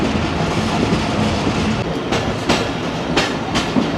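Jaffer Express 39 Up passenger train rolling along the tracks, a steady loud rumble of wheels and carriages with periodic clickety-clack joint bursts, heard from on board with no talk.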